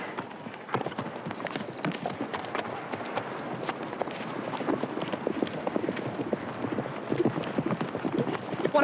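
Rapid hoofbeats of a horse galloping close by, a dense drumming rhythm running steadily throughout with a faint rumble beneath.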